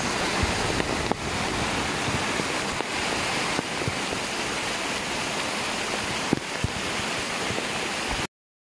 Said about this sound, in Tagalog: ganito po kabilis ang tubig